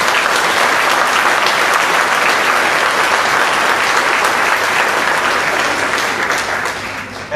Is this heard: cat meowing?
no